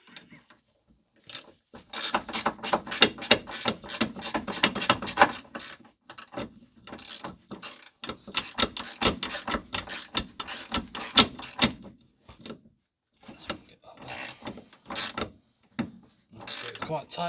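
A ratchet tightens a rear anti-roll bar drop link on a Ford C-Max, with long runs of rapid, sharp close clicking broken by short pauses as the handle is reset, and the strokes grow choppier toward the end.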